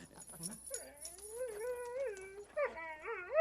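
Several dogs whimper and whine in high, wavering cries, close and fairly loud, with no talking over them.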